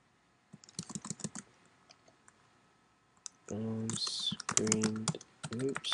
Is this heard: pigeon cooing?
no